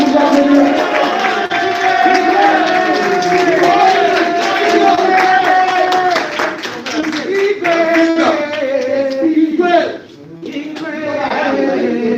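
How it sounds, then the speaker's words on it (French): A press-conference crowd claps and cheers for Werrason, a loud, sustained wash of hands and shouting voices, with a brief dip before the noise picks up again. "Est-ce qu'on peut applaudir?"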